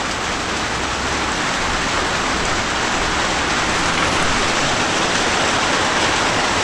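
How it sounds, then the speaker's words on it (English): Heavy rain falls in a dense, unbroken hiss at a site where an earthen house is being built, loud and close, with no voices or other sounds over it. "The rain came."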